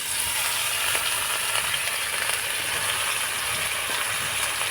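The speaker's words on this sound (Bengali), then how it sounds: "কড়াইয়ের মধ্যে দিব সরষার তেল আর ফোড়নের জন্য দিয়ে দিব সামান্য একটু পাঁচ ফোড়ন" Panch phoron spices frying in mustard oil in a wok, a steady, dense sizzle and crackle that holds evenly throughout, close and fairly loud with no talking.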